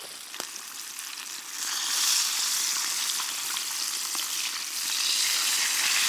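Fish sizzles in a pan at an overnight canoe campsite, a steady loud hiss of hot oil that swells after a moment and holds, with small crackles throughout.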